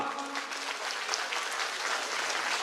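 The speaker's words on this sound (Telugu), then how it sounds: "దీనికి మనం చప్పట్లు కొట్టమా?" An audience at a school gathering gives a short burst of steady clapping, fairly faint and distant, lasting a few seconds without pause.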